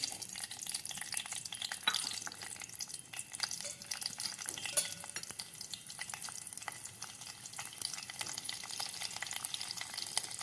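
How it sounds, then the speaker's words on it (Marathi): Garlic fries in heated oil while Marathi-style tomato saar is being made, giving a soft, steady crackling sizzle that stays fairly quiet and even throughout, with faint stirring clicks and no voices. "तेल तापलेले आहे तर आपण लसूण घालून घेऊया आधी"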